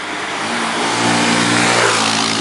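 A car speeds through a checkpoint on a road race from Singapore to Mandalay, its engine roaring loud and close, rising as it passes, with no talk over it.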